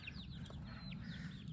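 Hens and young chicks cluck and peep in a coop, high chirps and short clucks scattered over a low steady rumble, fairly faint.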